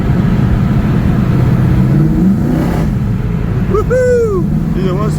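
A Holden HQ Monaro's engine rumbles loud and close, swelling in a rev, while people speak over it and a short whistle-like squeal rises near the end.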